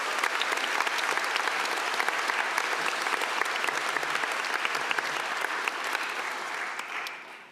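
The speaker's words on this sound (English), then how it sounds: "big round of applause for the accessibility team." A conference audience claps together in a dense, sustained round of applause that holds steady for several seconds, then starts to fade at the close.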